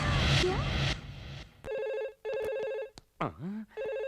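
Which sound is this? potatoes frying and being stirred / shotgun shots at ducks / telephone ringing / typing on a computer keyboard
telephone ringing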